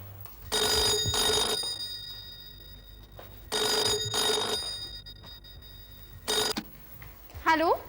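A telephone rings in two-pulse bursts, three times over, clear and fairly close, with a brief burst of speech at the very end.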